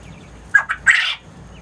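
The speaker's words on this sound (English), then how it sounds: "These are my jumbos, quote unquote, my Egyptian jumbos. Very beautiful birds." Egyptian jumbo quail calling nearby in a few short squawking bursts: two quick chirps, then a longer harsh call, with quiet in between.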